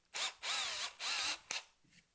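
A power drill countersinks a screw hole in hemlock wood, whirring in three close, loud bursts of about half a second each, then a short final blip before quiet.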